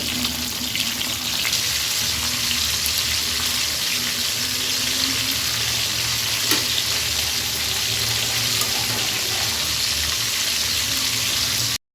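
Food frying in a pan in a home kitchen, a loud continuous sizzle and crackle held steady throughout, close up with no talking.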